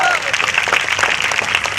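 A live audience at a comedy show claps and cheers in a brief, loud burst of mixed crowd noise, with voices mixed in.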